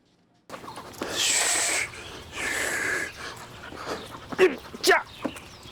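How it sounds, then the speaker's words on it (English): A young Formosan mountain dog, a nine-month-old police dog in training with a K9 unit in New Taipei, pants in rapid, breathy bursts at close range, with a few sharper huffs near the end. "One Formosan mountain dog in New Taipei is said to be the country's first police dog of its kind."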